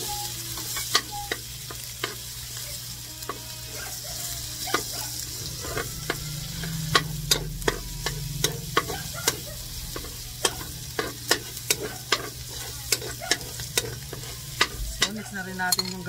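Onion sautéing in a pan for Bicol-style pinakbet, a steady sizzle under irregular sharp clicks and scrapes of a utensil stirring, close and fairly quiet, with no talking.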